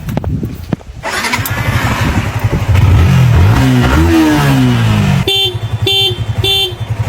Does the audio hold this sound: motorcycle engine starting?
yes